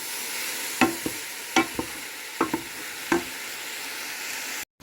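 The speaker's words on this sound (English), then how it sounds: "We're starting to sizzle." Onions and mushrooms sizzle in margarine in a pan, a steady close frying hiss broken by several sharp scrapes and knocks of a utensil stirring, then cutting out abruptly at the end.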